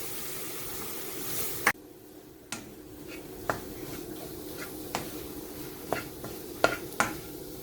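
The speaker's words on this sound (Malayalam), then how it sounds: "മസാലക്കൂട്ടത്തിൻ്റെയൊക്കെ ആ പച്ചപ്പ് മണം മാറുന്ന വരെ നമുക്ക് എണ്ണയിലിട്ട് നല്ലപോലെ വഴറ്റി കൊടുക്കണം" Masala paste with chilli powder and tamarind being sautéed in oil for a Kerala-style fish curry: a steady low sizzle with scattered sharp scrapes and taps of a stirring spoon against the pan, alone with no talk.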